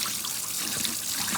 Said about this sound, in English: I dumped off all the water that was in it overnight, and I'm just giving them a good rinse